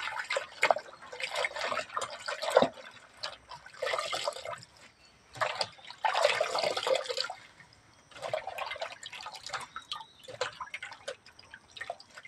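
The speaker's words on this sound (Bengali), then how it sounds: "ভালো করে ধুতে হবে, পাতাটায় নোংরা আছে।" Ivy gourd leaves being washed by hand in water in a village kitchen, giving repeated bursts of splashing and dripping that come in uneven waves with short quieter gaps, close up and with no talking.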